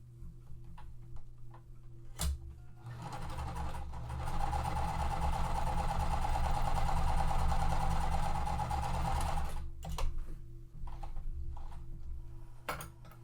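Sewing machine stitching quilt pieces, a steady whirring run of needle strokes lasting several seconds, close by, with ticking and clicks before and after it stops.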